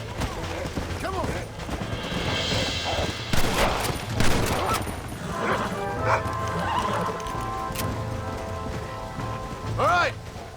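Horses neighing and hooves clattering in Red Dead Redemption, a busy, noisy game soundscape with crackling bursts and scattered voices, whinnies rising several times throughout.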